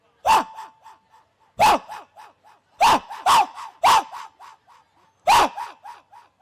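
A voice mimics a dog barking, six sharp woofs spaced unevenly, each followed by short softer yaps.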